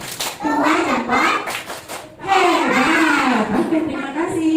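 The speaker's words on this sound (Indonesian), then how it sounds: "Tepuk dua jempol untuk Rafa dan Hasna." Schoolchildren in a classroom do a rhythmic group clapping cheer for two classmates, their sharp handclaps mixed with children's chanting voices, near and fairly loud.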